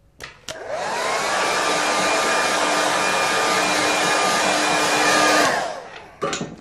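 A hair dryer blows on wet watercolour paper, starting with a click, then a steady loud whirring hiss with a constant motor whine for about five seconds before it winds down and clicks off.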